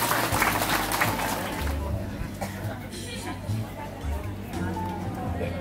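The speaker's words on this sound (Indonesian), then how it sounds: "Kita berikan tepuk tangan." An audience at a church Mass and reception ceremony claps during a garland presentation, the applause mixed with crowd chatter and talk over a steady background hum.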